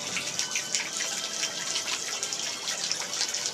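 Water gushing steadily into a container being filled by hand, a continuous close splashing rush with no voices.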